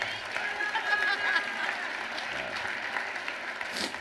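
Round of applause from a keynote audience, steady clapping from a crowd at moderate distance, with faint voices underneath, swelling slightly near the end.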